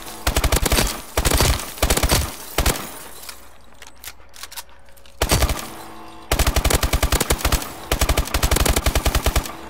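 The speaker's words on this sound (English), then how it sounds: "ASM1 reminds me of the Tommy gun." An ASM1 submachine gun fires in Call of Duty: Advanced Warfare, loud rapid automatic bursts repeated several times with short quiet gaps between them.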